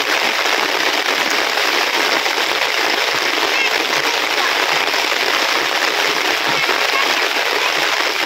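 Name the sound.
heavy rain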